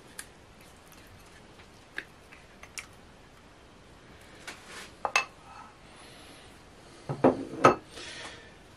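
Utensils clink against a bowl while 100 grams of butter or margarine go in, a few sparse light taps early on, then a cluster of louder knocks and scrapes near the end, close by and with no talk.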